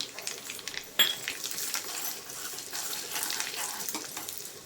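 Cashews frying in ghee with cumin and pepper, a steady soft sizzle with occasional light clinks of a spoon against the pan and one sharper knock near the start.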